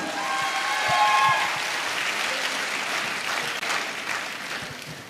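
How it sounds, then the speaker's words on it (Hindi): Loud audience applause fills a seminar hall, a dense, steady wash of clapping from many hands that swells early and then tapers slightly without stopping. "आप सभी के लिए एक बार जोरदार तालियां।"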